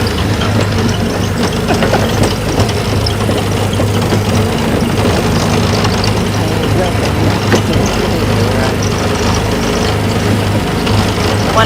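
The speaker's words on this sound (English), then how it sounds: "Hard to hear anything over the roar of this engine." An engine roars loudly and continuously on a ride at Disneyland, a constant heavy low rumble with no breaks, close and dominant throughout.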